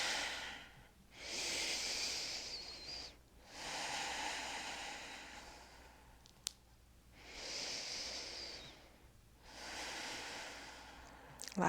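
Deep, slow breathing during a yoga flow, with four long, audible inhale-exhale cycles close to the microphone, steady and rhythmic over quiet background.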